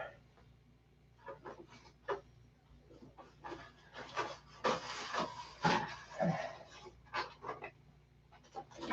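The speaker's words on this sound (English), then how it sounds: "So I want to block sand it, but I want to use a big block." Sanding block rubbed over a P-47 model airplane part, irregular close scraping strokes of varying length, quiet at first and growing stronger in the middle.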